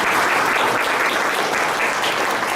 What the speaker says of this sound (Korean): 그럼 대표님께 큰 박수